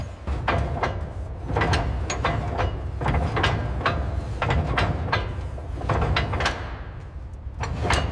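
Torque wrench ratcheting on a WWII artillery gun being restored in the jungle, with repeated sharp clicking strokes in a steady rhythm over a loud continuous background rumble, close by.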